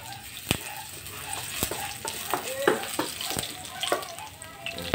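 Ginger pieces sauté and sizzle in a hot pan for chicken feet adobo, with steady frying hiss broken by several sharp stirring clatters of a utensil against the pan.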